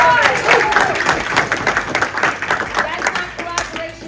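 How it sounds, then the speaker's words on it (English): Audience clapping at an autism talk, a dense burst of applause that swells then gradually thins, with a voice speaking over it. "Give him a round of applause!"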